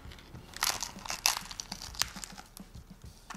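Sharp, brittle crunches of a homemade fried wonton taco shell being bitten and chewed, several crackling bursts close to the mic, with no talking.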